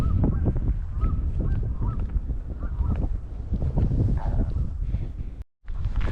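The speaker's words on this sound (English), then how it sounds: "it's pretty nice and pretty peaceful, except for these honking ducks" Repeated honking calls from ducks in a marsh at a wild bird sanctuary, loud and close, overlapping in a busy chorus with wind rumble beneath, briefly cutting out near the end.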